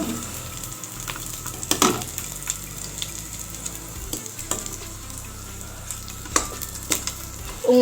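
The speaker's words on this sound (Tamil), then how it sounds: "நல்லா இந்த பூண்டும் புளியும் நல்லா வறுபடட்டும்" Garlic and tamarind fry in hot fat in a pan, giving a continuous low sizzle broken by a few sharp clatters of stirring, close by and without speech.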